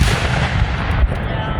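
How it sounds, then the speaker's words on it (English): A heavy Civil War cannon blast at a battle reenactment booms loudly with a deep rumbling concussion that fills the whole moment, with a second thump near the end. "That's the percussion force from the explosion."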